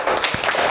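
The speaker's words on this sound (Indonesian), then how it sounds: "tepuk tangan untuk kita semuanya." Classroom applause during a maths lesson, a short, loud burst of group clapping.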